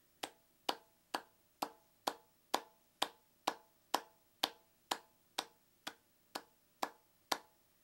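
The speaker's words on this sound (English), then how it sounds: "So clap 16 times with me" Sixteen sharp hand claps in an even, steady rhythm, close and crisp, with no talking between them.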